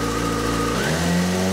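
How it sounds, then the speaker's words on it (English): A Yamaha Fazer motorcycle engine idles loudly up close with a steady hum, then its speed drops noticeably partway through and settles to a lower, even idle note. "Wait till the RPM drops to normal idle speed."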